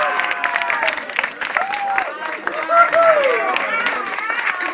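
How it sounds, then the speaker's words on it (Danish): An audience at a comedy music show applauds loudly, a dense, sustained wash of clapping with some cheering and crowd noise and voices mixed in. "så giver vi et ordentligt bifald!"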